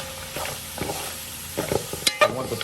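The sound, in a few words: stirring veggie pelau in a pot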